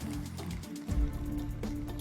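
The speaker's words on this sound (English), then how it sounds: "And then the same, about 375 grams of sparkling water." Sparkling water pours into beer for a hot chocolate recipe, a steady close liquid rush with fizzing and a brief splashy gurgle midway, continuous and fairly loud.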